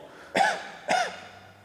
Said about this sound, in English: What I want you to do is give me a cough.